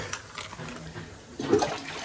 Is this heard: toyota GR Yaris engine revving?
no